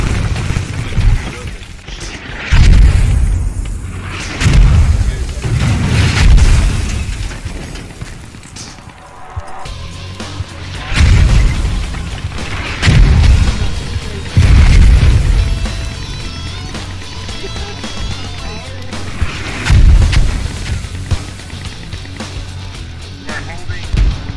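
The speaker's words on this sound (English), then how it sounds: "They're just mortaring the crap out of us." Mortar shells exploding in the video game Squad, a series of heavy booming blasts, several loud nearby impacts every few seconds, mixed with shouting voices over the combat.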